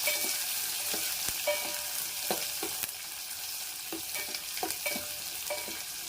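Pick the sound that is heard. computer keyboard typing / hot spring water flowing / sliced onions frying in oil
sliced onions frying in oil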